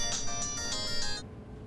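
A telephone ringtone plays in a short repeating pattern of bright electronic tones, four pulses in quick succession before it cuts off, heard clearly against a quiet indoor room.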